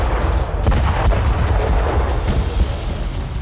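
Gunfire and mortar fire in the Russia-Ukraine war crackle in a dense, continuous barrage, with sharp shots and heavier booms overlapping loudly and unevenly throughout.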